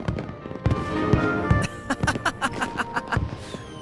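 Fireworks at a festival in a video game go off in a rapid run of popping bursts, loud and close, over a steady musical background.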